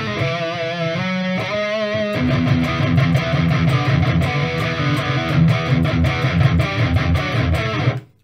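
An electric guitar played through a Soldano amp simulator on its default setting in Reaper, a few distorted chords followed by a loud, driving riff of chugging strums for about eight seconds before cutting off abruptly.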